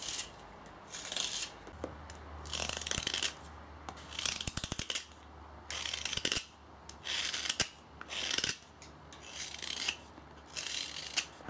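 A freshly sharpened crook knife carves a wooden spoon in a test run, making close, crisp, rasping slicing strokes in repeated bursts with short pauses between them.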